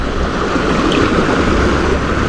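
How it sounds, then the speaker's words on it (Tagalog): Strong water current rushing at sea during rising tide, a dense, loud, continuous wash of broadband noise with no pauses or voices. "Pag po ganyang malakas ang agos"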